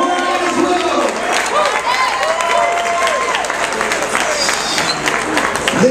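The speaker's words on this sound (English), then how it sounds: "a nice round of applause" Wedding guests applaud after a best man's speech, lively clapping mixed with crowd noise and scattered cheers, with voices rising through the applause.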